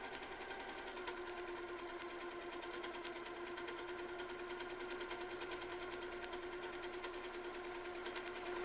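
Sewing machine running continuously while stitching a quilt block, a steady fast whirring hum with rapid needle ticking, even and fairly quiet throughout with no pauses.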